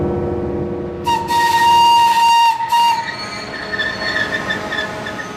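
A vintage train of 1920s and 1950s carriages rolls into a platform on the Sulmona Railway, Italy, with squealing wheels and a loud hiss of brakes, metallic screeches rising and fading over a low rumble.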